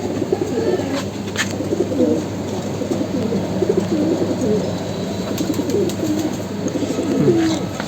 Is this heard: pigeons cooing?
yes